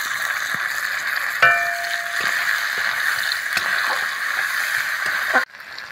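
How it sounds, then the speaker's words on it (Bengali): Chopped onion and tomato fry in a pan with a steady, close sizzle, broken by a few stirring clinks and scrapes before the sound cuts off abruptly near the end. "দিয়ে ভালো করে পেঁয়াজটা লাল লাল করে ভেজে নেব"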